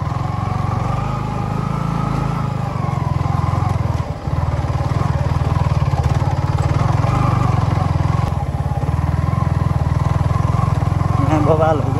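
A Yamaha MT15 motorcycle ridden off-road runs with a loud, continuous, close engine drone and rough clattering, while people talk over it.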